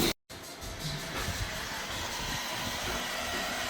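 After a brief cut, a loud steady whooshing hum of an electric heat blower softening decals on a Yamaha Sniper 155 motorcycle runs continuously, close by.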